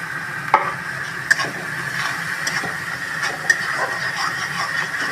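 Spices with salt and turmeric sautéing in a pan, a low hissing fry with occasional sharp scrapes and taps of a spatula against the metal, close and steady.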